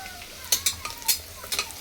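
Onion and country garlic fry in a pan with a soft sizzle, punctuated by several sharp spoon clinks and scrapes against the pan, close and brief, without speech.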